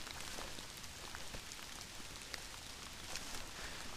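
Steady rain falls on a mountain trail as a dense, even hiss with scattered droplet patter, faint and continuous with no voices.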